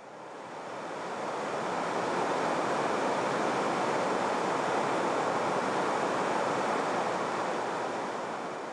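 Steady, full-bodied rush of water from the Nabezu Otaki waterfall, about 10 m high and 30 m wide, in a forest in Shichikashuku, Miyagi, a continuous broadband roar that swells in at the start and holds loud and even throughout.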